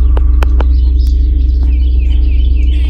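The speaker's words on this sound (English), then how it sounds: "Beyond the birds chirping, you can hear the same hum in the background." Birds chirp in a few short, sharp bursts over a constant low, throbbing hum in a residential neighborhood in North St. Louis County. The hum stays loud and steady underneath the calls.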